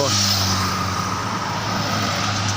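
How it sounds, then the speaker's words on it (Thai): A car idles and creeps slowly while it is turned around during a driving lesson. A low, steady engine hum carries throughout with faint surrounding noise, and no clear speech stands out. "ตอนนี้กำลังหันรถกันอยู่ครับ"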